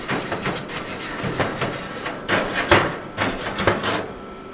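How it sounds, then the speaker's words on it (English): Smoker grill grates are scraped clean with repeated rough brushing strokes in bursts, close and fairly loud, with short pauses between passes and no talking. "I'm going to clean off these grates."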